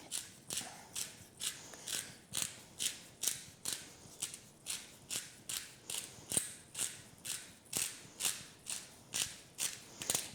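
A pepper grinder twisted over broccoli soup with curry and onions makes about twenty close, evenly spaced crunching clicks in a steady rhythm. No talk.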